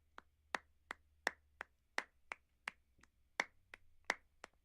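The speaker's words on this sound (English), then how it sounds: "So here's my first clap." A single sharp clap sample for Latin percussion production in Ableton Live repeats about a dozen times in an uneven pattern, each hit crisp and short against near silence.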